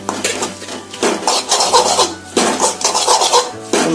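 Metal spoon scraping and clinking against a bowl while stirring a broken wheat cutlet mixture, in steady repeated strokes, close and fairly loud, with no talking.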